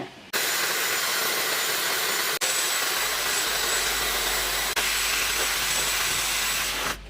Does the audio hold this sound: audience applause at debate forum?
no